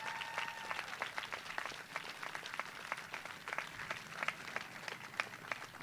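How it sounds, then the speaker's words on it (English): An audience at a 2018 graduation ceremony claps steadily, a dense, continuous patter of many hands from start to finish with no speech over it. "So please, a round of applause for yourself."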